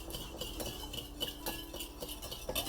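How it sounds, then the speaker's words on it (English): A whisk beats melted butter into an egg mixture for pancake batter, giving a steady run of light metallic clinks and scrapes against a bowl, close and continuous. "We're gonna whisk that together."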